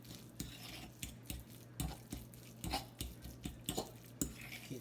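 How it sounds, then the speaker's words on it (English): A fork stirs and scrapes a crab and salmon stuffing in a bowl, producing a steady series of close, soft clinks and squishy mixing strokes with a low kitchen hum beneath. "Mix that in there. I'm gonna use a fork."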